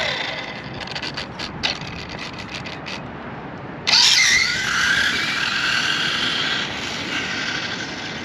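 A Traxxas Rustler RC car with a Sidewinder 3 motor on 3S power launches abruptly, a loud high-pitched electric whine bursting in after a few seconds of quieter background whirring and holding steady as it speeds away.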